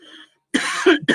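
Two or three harsh coughs in close succession, loud and near, after a brief faint murmur and a moment of silence.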